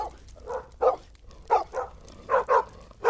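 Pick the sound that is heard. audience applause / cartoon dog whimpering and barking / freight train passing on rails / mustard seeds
cartoon dog whimpering and barking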